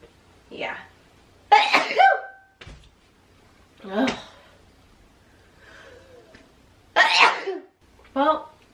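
Several sharp sneezes from one person burst out at uneven intervals, some in quick pairs, loud and close with quiet gaps and faint breathing between them.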